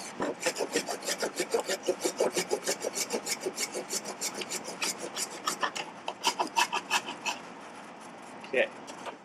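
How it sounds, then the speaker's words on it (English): Hand saw cutting through eastern red cedar for a spoon blank, a steady run of close, loud rasping back-and-forth strokes, quickening toward the end before a brief pause and a final stroke. "We'll just finish sawing this off here."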